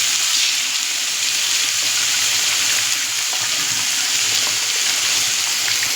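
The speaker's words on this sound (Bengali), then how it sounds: "কড়াইতে দেখুন আমি দুটো ডিম দিয়ে নুন দিয়ে ফাটিয়ে নিচ্ছি" Eggs with salt frying and being scrambled in a wok, a loud, steady hiss of sizzling oil that holds through the whole stretch and stays close, with no talking.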